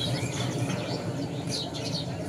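Racer, teddy and Pakistani breed pigeons kept together, giving a busy mix of soft chirps and calls close by, steady over a low background murmur with no talk.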